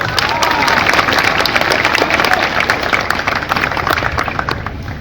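Dense crowd applause fills a political rally in Chandrapur, loud and sustained throughout, with scattered cheers and voices mixed into the steady clapping.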